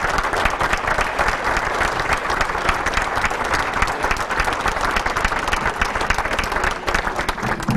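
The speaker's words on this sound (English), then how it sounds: "let's have a big round of applause for this group" Steady, dense applause from a sizable crowd at a sports hall of fame banquet fills the whole stretch, many hands clapping continuously at an even, loud level.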